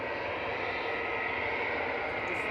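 A fixed-wing airliner at Manchester Airport, bound for Amsterdam, gives out a steady, broad engine roar that holds even throughout, heard alone with no talk over it.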